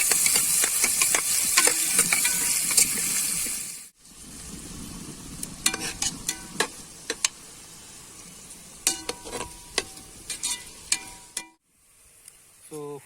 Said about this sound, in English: Let's add some chopped onions. Let's fry it till it becomes golden brown